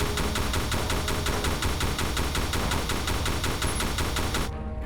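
Rapid automatic gunfire from a video game weapon, a steady stream of evenly spaced loud shots running for several seconds before cutting off abruptly at the end.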